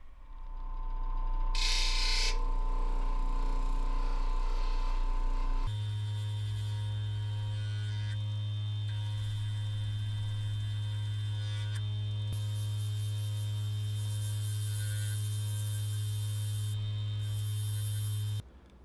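8-inch CABKING lapidary machine polishing stones on a polishing pad with 50,000 grit paste, a steady mains-like motor hum with faint buzzing that drops in pitch partway through and runs on continuously.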